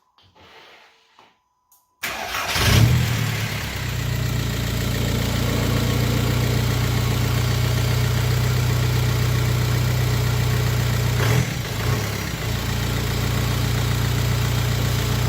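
A MK4 VW Jetta engine cranks and catches after a quiet moment, then settles into a steady, close idle with one brief rev partway through.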